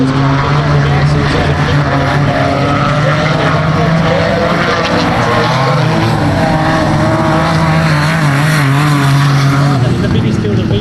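A V6 sprint car rolls out onto the Murray Bridge dirt oval for a heat, its loud engine droning steadily and close for the whole stretch, with a commentator talking over it.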